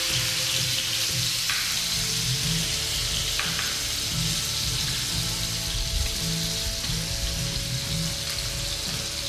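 A salmon fillet frying in a pan just after being turned, crackling and sizzling in a steady, close hiss that carries on unbroken and fairly loud, with no talking.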